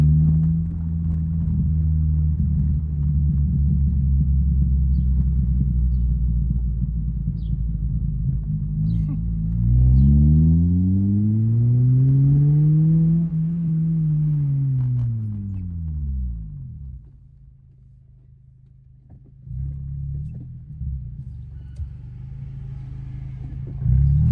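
Acura RSX DC5 with an Invidia N1 catback exhaust idling in second gear around 2,000 RPM, a deep steady drone that swells as a passing vehicle sweeps by, then drops back to a low burble with short throttle blips.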